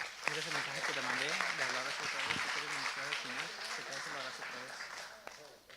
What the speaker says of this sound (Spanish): un aplauso a nuestro quarterback